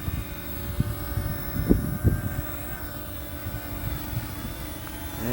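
L500 Pro drone flying in strong wind, a steady low rotor drone with gusty buffeting and occasional thumps, continuous and moderately close.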